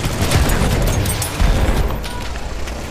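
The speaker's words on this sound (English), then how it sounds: "Look out, machine gun." Machine gun fire on a Battlefield 1 battlefield, loud dense rattling bursts mixed with booms and explosions, keeping up a constant roar throughout with a brief surge partway through.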